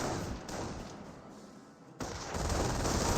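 Rifle fire hits an infantry squad in Company of Heroes, crackling in rapid bursts with a sudden loud volley surging in partway through.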